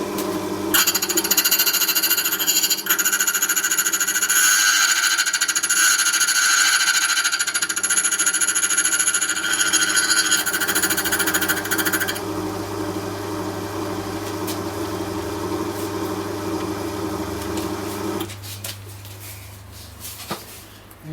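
Silca Poker key cutting machine cutting one side of a key at a locksmith's, a loud continuous grinding whine that runs for about twelve seconds, then eases into a lower motor hum before stopping.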